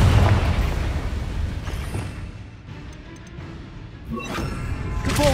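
A Confringo spell explodes in the video game Hogwarts Legacy, giving a booming blast at the start, then a quieter rumbling stretch, and a second crackling burst near the end, with no talking.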